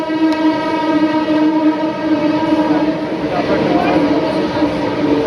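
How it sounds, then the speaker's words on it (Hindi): A Kolkata Metro train rumbles steadily into a station with a sustained droning hum, and muffled voices sound faintly in the background. "ये साथ ही साथ ट्रेन भी आ चुकी है, ट्रेन ही मेट्रो।"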